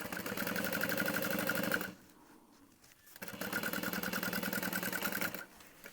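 Sewing machine back stitching a bag lining: a fast, even needle rattle runs for about two seconds, pauses briefly, then resumes for another two seconds before stopping, close and moderately loud.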